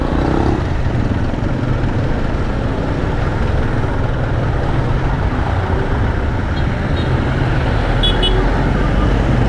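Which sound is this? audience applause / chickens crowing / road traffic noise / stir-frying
road traffic noise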